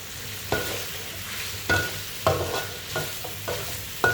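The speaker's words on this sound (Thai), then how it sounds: "แล้วก็มาทอดรอบที่สองกันค่ะ" Pork skin frying in hot oil for pork rinds, second fry, makes a constant close sizzle, with intermittent scraping stirs and clunks from a utensil against the pan and no voices.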